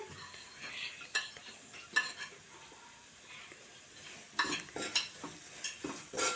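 Ground mustard, fenugreek and asafoetida powders stirred into a mixture with a spoon, giving soft scraping strokes and a few sharper clinks against the bowl, faint and close, with clusters of activity near the end and no talking.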